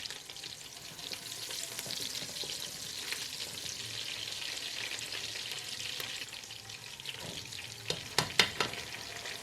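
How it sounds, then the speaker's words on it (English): Onions and fresh peppers frying in palm oil in a pot for a Nigerian dish, a steady close sizzle throughout with a few sharper crackles and pops near the end, no talking. "I added some palm oil to a dry pot. I added some onions and fresh peppers. I fried it for just 1 minute."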